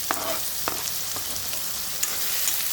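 Onions and tomatoes fry in a pan for beerakaya (ridge gourd) curry: a steady close sizzle broken by a few soft stirring clicks, with no talking.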